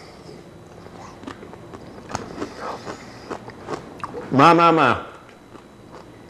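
A chip loaded with homemade avocado dip is bitten and crunched close up, with faint chewing and smacking before one loud crunch. Someone speaks briefly.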